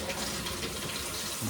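Water rushes through a kitchen sink supply line with red PEX as the tap is turned on, a steady broadband hiss and gush lasting under two seconds, close and fairly even.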